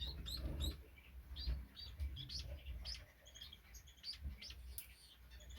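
Chestnut-breasted mannikins in an aviary give quick, high chirps and tweets, scattered and fairly close over a steady low background hum.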